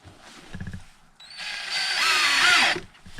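A TOPSHAK TS-ED3 20V cordless electric drill drives a Phillips screw, giving a loud, close whirring whine that rises in pitch and then stops after about a second and a half, following a short thump.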